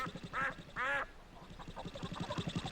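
A cartoon duck quacks twice in quick succession, loud and nasal, followed by a low rumbling tractor-like chug in a children's farm story.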